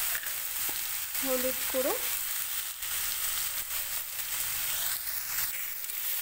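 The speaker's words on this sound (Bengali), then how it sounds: "কিছু সময় এভাবে নাড়িয়ে চালিয়ে নেবো।" Elephant foot yam stems and prawns sizzle steadily in a pan while being stirred, a close, constant frying hiss with a short spoken phrase over it.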